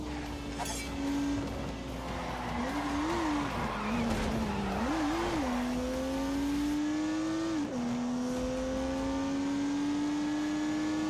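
A turbocharged 3-litre straight-six car engine pulls hard and loud, its pitch climbing and falling through several gear changes before holding a steady high drone, with faint tire noise throughout.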